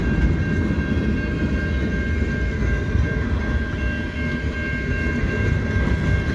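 A long CN freight train rolls past a St Ambroise Street crossing in snow, a loud continuous rumble of wagons with a steady high bell tone above it, close throughout.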